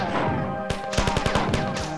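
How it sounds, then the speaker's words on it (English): An MA-75 assault rifle firing in the video game Marathon, a loud close burst of rapid automatic shots layered over a droning in-game background tone. "the MA-75 assault rifle, which happens to be horribly inaccurate when shooting"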